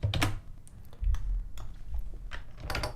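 Typing on a computer keyboard, a few scattered clusters of clicky key presses and taps close up, with no talk.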